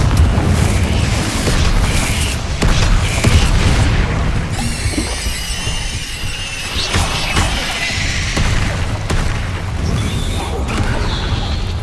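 Confringo fire spells burst in a Hogwarts Legacy duel, loud booming blasts and crashing impacts over a dense, continuous game soundscape with shimmering magical whooshes in the middle.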